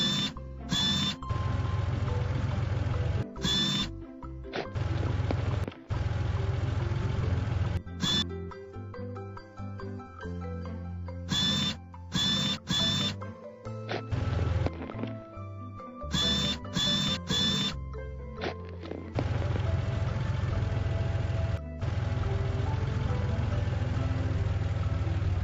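A learning excavator's engine runs steadily while it shovels gravel beside a pond, a low droning rumble broken by repeated abrupt cuts and restarts over a long stretch.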